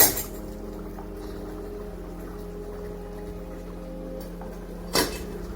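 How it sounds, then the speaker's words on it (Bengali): A metal lid goes onto a pan of pomfret fish curry (kaliya) with a sharp clank at the start, then a quiet steady hum, and a second clatter of the lid near the end. "এবারে একটু ঢেকে দেব।"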